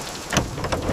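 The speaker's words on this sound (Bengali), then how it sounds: "বৃষ্টি!" Rain falls in a brief steady patter with a couple of louder splashes, close by and alone.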